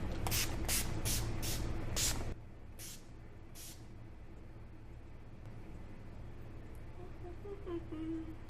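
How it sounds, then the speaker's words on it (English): Several short, hissing bursts of makeup setting spray in quick succession, close up, followed by quiet room tone with faint talking. "I'm gonna mist with a little bit of makeup setting spray"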